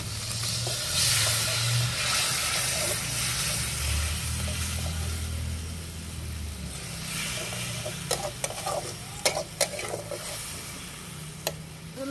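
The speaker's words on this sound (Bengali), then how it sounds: "কেটে রাখা টমেটো দিয়ে একটু ভালো করে কষিয়ে নিব" Cabbage fry with chopped tomatoes sautéing in a pan, a steady soft sizzle and hiss with a low bubbling undertone, joined later by a few scattered clinks and scrapes of stirring.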